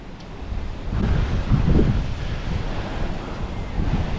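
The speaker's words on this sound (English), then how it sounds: "We got a southeast wind." A southeast wind of about 10 to 15 blows on a fishing coast, a steady low buffeting roar against the microphone mixed with surf washing in close by, with no talk.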